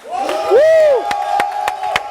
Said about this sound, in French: Les esprits ont fait un tonnerre d'applaudissements, s'il vous plaît, pour la grande Barbara Kanam